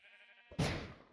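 A sheep in Minecraft gives a single short bleat as it is hit, the loud bleat sounding alone after a brief tonal game sound.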